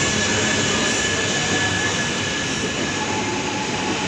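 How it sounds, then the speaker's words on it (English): A 17-carriage Yamagata Shinkansen service departing platform 21 at Tokyo, a loud, continuous rushing roar of the train running past at close range, steady and alone without voices. "The 3 p.m. Yamagata service, the final train for this vlog, departing platform 21."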